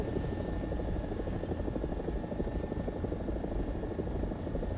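An AB 205 helicopter in a video game drones with a continuous rotor thrum and engine whine, steady and moderately loud throughout with no speech.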